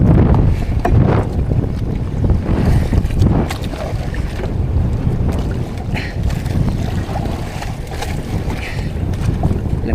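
Wind buffets a small fishing boat off Surigao on wavy water, a loud rushing roar with gusts and splashing that holds steady and close throughout, with no talking.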